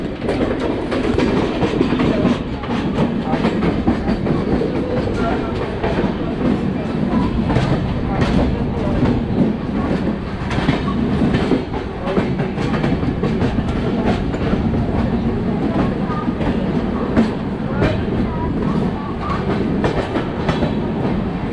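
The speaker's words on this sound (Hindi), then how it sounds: "Gorakhdham superfast express." The Gorakhdham Superfast Express rolls past close by near Kanpur in a continuous loud roar, its wheels clicking rhythmically over the rail joints for the whole stretch, with a faint voice under it.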